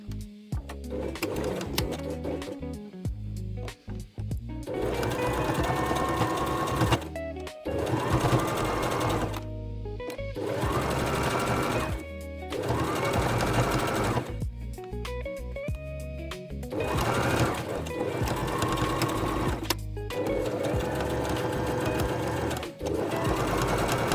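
A sewing machine stitches cow-ear pieces onto fabric doll berets in repeated bursts of fast, close, rattling mechanical whirring, separated by short pauses.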